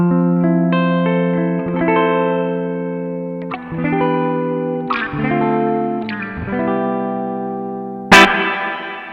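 Electric guitar played through a BOSS RV-6 reverb pedal on its plate setting, with a semi-hollow 335-style guitar in the mixed pickup position. Sustained chords ring out continuously with a lush wash of reverb, and a bright sharp strum near the end. No one speaks.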